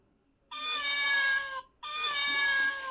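A person imitates a cat, giving two drawn-out meows of about a second each with a short pause between them, fairly clear in a quiet room.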